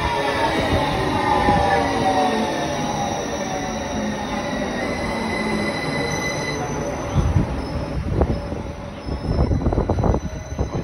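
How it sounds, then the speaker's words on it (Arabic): A metro train pulls into a station in Denmark, a loud rumbling of cars with long drawn-out wheel squeals and tonal whines that fade, followed by heavier clunks and rattles near the end. "المترو جاي."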